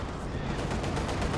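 A machine gun in the World War II strategy game Company of Heroes 2 fires as a dense, continuous rattle of rapid shots under a busy mix of battle noise.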